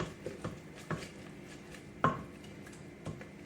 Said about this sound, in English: Just stir until it's all incorporated.